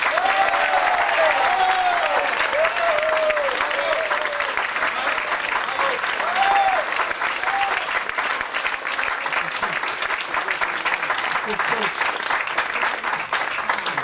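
Sustained audience applause at a literary gathering, a dense steady wash of many hands clapping at even loudness throughout, with faint voices calling out over it.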